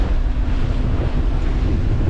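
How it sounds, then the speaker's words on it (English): Strong wind buffets the microphone aboard a small boat near Exmouth, a constant low roar, loud and unbroken, with rushing water faintly underneath. "It is getting really windy now."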